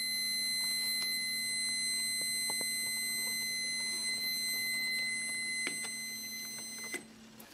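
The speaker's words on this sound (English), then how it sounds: "So by just simply turning it on, it should alarm even when it's in a room that's contaminated." A Testo 317-3 carbon monoxide detector sounds its alarm, steady electronic tones holding constant pitch with faint clicks, close and fairly quiet in a still room.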